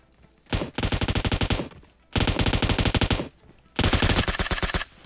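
Three long bursts of rapid automatic gunfire from the video game PUBG Mobile, loud and close, each lasting about a second with short pauses between.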